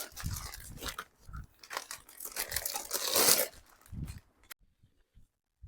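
A steel kadhai is pulled out of a polythene plastic bag, with loud crinkling and crackling plastic in close, irregular bursts, ending abruptly in near silence.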